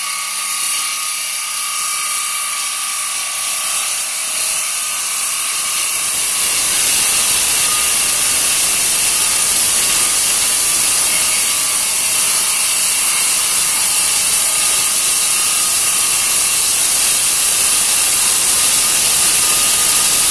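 A power tool makes a freehand cut through MDF-like fiberboard for a sim cockpit floor platform, a loud continuous high-pitched whine and hiss that swells after a few seconds and holds steady to the end.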